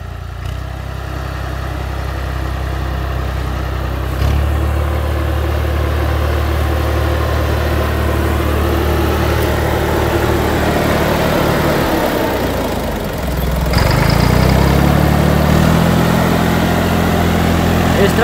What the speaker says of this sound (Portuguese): Esse trator Valtra